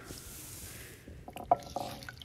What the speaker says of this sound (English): Pour my spring water in there, and now I'm cleaning it with my hand.